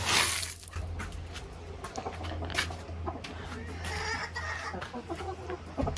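Chickens cluck and chatter inside a coop, a busy mix of close, overlapping clucks over a steady low hum, with occasional brief voices.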